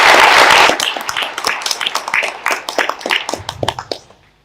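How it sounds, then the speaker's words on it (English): Conference audience clapping after an official opening speech, starting as a dense burst and thinning into scattered individual claps before fading out, close and fairly loud. "a round of applause for those very nice, insightful remarks"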